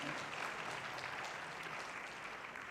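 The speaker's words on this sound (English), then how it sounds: "Another round of applause for Umama Bhengu, the NDA Board Chairperson." An audience at a national civil society organisations conference keeps up a steady round of applause for the board chairperson, a full, continuous wash of clapping throughout.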